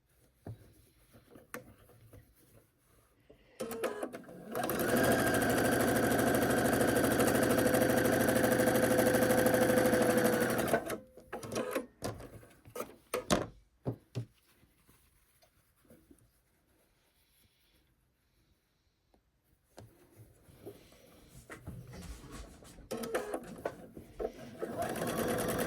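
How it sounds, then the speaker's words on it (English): A sewing machine stitches pieced quilt block sections together in one steady run of about six seconds, its loud whirring motor close and continuous, framed by quieter handling sounds and short bursts of stitching toward the end. "now we're going to sew these on like so"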